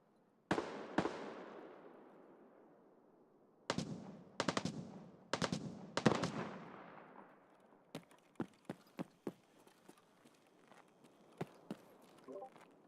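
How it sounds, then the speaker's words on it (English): Gunfire in the video game Escape From Tarkov, with bullets landing nearby: loud bursts and single sharp cracks that echo and decay, then a run of fainter, scattered shots. "It's just straight bullets landing near me."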